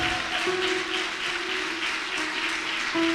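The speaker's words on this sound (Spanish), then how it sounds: "Dale un fuerte aplauso al Señor." Church congregation applauding during a worship service, a dense continuous roar of clapping from many people, steady and fairly loud, with a faint sustained tone beneath.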